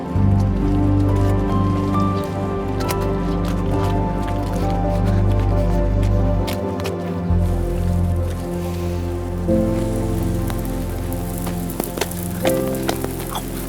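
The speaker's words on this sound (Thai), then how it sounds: "ฝนตกอะรีบไปลบกันเถอะ" Steady rain patters on a surface nearby, a dense soft hiss with scattered drips and splashes, continuing throughout without talking.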